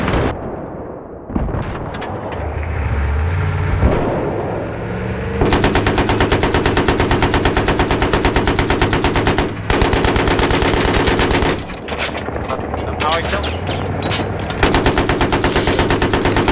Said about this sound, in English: Things are shooting at us.